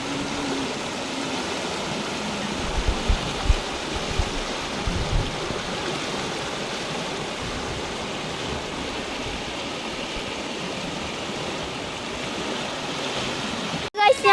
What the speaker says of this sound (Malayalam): ഇത് അടിപൊളി തോടാണ് നല്ല ഒഴുക്കൊക്കെ ഉണ്ട്